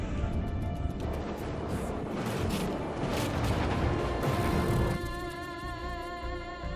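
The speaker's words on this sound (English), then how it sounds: "Triton's tank firing its barrage." A tank in the naval and land combat game From the Depths fires a rapid barrage, heard as a dense run of booming and cracking shots over droning engine noise, then a sustained tonal hum as the firing thins out.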